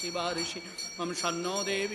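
A puja bell rings continuously with thin, sustained metallic tones beneath a voice chanting Vedic mantras during Durga Puja rites at Ramakrishna Mission, the chant dominating while the bell shimmers steadily behind it.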